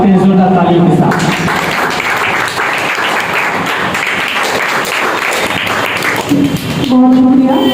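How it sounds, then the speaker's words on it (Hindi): Loud audience applause at the opening ceremony of Dynamic English Academy, Rajaura Chowk, welcoming a ward councillor. A voice comes first, then a full burst of clapping runs for several seconds before speech returns. "जोरदार तालियों के साथ।"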